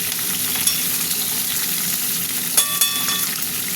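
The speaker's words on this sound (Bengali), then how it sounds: "সবজিগুলো ভাজা ভাজা করবো তো ওই জন্য একটু তেলও দিলাম" Vegetables sizzle steadily in oil in a pan, a continuous close frying hiss with a few faint clinks near the end.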